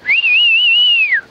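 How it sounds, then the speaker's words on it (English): A person gives one clear, sustained whistle outdoors at night to attract a fox, a single close, loud tone wavering slightly in pitch for about a second with no talk. "if you just whistle a bit like that"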